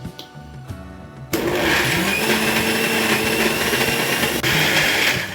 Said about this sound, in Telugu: మళ్ళీ మిక్సీ పట్టుకున్నాము